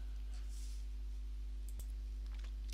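A single sharp mouse click lands near the middle of an otherwise quiet stretch, with only a low electrical hum and faint room noise around it.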